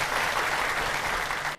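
Steady, loud applause from a studio audience at a Vietnamese TV dating show fills the moment, dense and even throughout before cutting off abruptly at the end.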